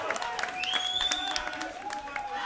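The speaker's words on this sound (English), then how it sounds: "we should give Adam a big clap for what was a remarkable show" Audience applause for a performer at a band's final gig: a crowd claps steadily with scattered whistles and a faint cheer, fairly close and sustained throughout.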